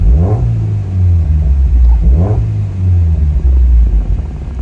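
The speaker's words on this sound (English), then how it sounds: "It's a nice sounding engine." A tuned Mazda MX-5 engine idles loudly and steadily close by, with deep rumbling and two brief rises in pitch like light revs.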